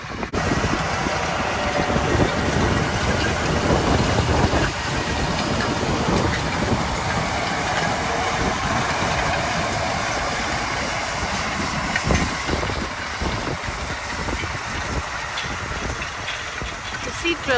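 A tractor pulls a seed drill across a field in a steady, loud engine drone with rumbling and clattering machinery throughout, close and continuous.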